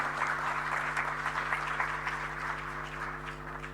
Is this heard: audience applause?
yes